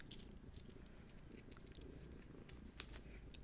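A kitten purrs softly and steadily up close, a low continuous rumble with faint rustling and small scratchy noises on top, in a quiet indoor setting during a crystal and Reiki session.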